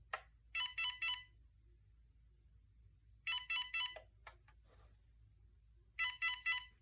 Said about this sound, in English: if you press and hold it, then it enters handset locator mode